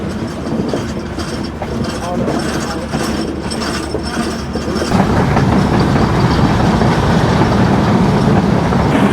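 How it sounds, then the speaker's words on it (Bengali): Rounding a big curve, the Drutojan Express in Bangladesh gives a loud rolling rumble with mechanical clanks and ratcheting wheel clatter that swells suddenly halfway through and stays heavy. "আমাদের ট্রেনটি এখন বিশাল বড় একটি কার্বের মধ্যে দিয়ে যাচ্ছে"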